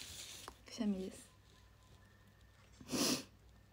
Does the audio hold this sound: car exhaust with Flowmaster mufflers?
no